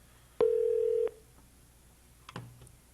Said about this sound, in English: Mariah, can I dial numbers through this thing or what? It's ringing.